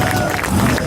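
Crowd at an offroad race in Rättvik, a brief loud burst of cheering and shouting from many spectators, dense and close.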